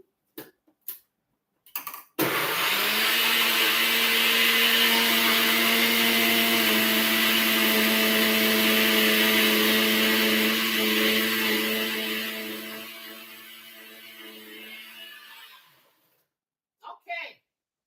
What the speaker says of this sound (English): Sing a song while I turn the magic bullet on so you don't have to hear this noise